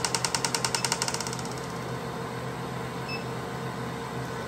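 An at-home HIEMT muscle stimulation machine gives a quick run of rhythmic pulsing clicks that fade after about a second into a steady, even electrical buzz, heard fairly faintly.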